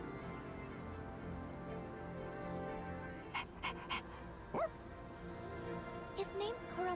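A dog in the video game Persona 3 Reload gives a few short yips and soft whimpers over steady game background music, with brief bursts clustered in the second half.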